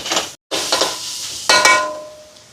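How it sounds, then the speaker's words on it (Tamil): Tomatoes sautéing in a pan with spice paste, a loud close sizzle broken by a brief gap, then stirring clatter and a metallic ring from the pan, no talk. "இப்போ கொஞ்சம் தக்காளி பழம் வதங்கட்டும்"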